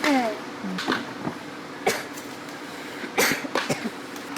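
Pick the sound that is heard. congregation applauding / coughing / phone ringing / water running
coughing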